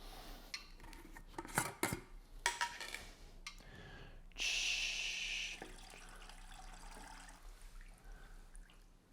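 A spoon stirs pickling lime solution in a glass jar, giving scattered clinks and scrapes against the glass, then a short burst of swishing liquid before things quiet to a faint hum.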